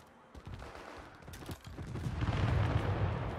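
Gunshots in the war game World War 3, a few sharp reports early on, then a building rumble of distant rapid fire and battle noise growing louder toward the end, with no talk.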